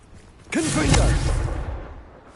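A Confringo fire spell blast from Hogwarts Legacy bursts in sharply, with a swooshing rise and a broad booming roar that holds for over a second before fading, while a voice speaks over it.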